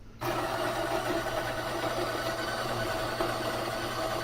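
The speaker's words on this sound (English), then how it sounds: "It's grinding the beans." A HausMojo 20 bar espresso maker grinding coffee beans at grind setting 5, a steady loud whirring drone that starts abruptly and runs on continuously without talk.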